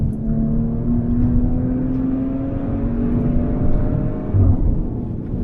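Maserati Levante S SUV engine droning steadily while driving, with a rising tonal hum that climbs gently as it pulls along, fairly loud and continuous with no talking.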